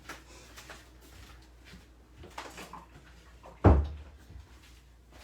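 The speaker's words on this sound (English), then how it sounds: "I need to close my door because apparently I walked in and didn't close it." A room door is shut with a single firm thud near the end, after soft shuffling and quiet rustling in an indoor space.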